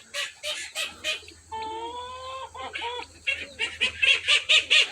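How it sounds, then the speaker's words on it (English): Baby turkeys around their mother produce a run of short clucks and chirps near and far, with a longer, wavering high call in the middle and rapid peeping toward the end. "Well, guys, there's baby turkeys."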